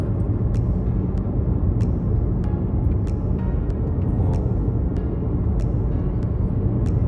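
Highway traffic rumbles in a steady low roar, heard from a passing vehicle, with faint periodic clicks repeating over the continuous drone.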